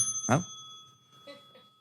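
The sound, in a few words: bell rung during podcast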